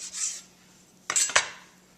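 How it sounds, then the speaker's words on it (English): A kitchen knife slicing through a stack of prosciutto: a faint scrape, a pause, then two quick close cutting strokes against the board with a soft rasp, no talking. "I'm going to cut right down the middle."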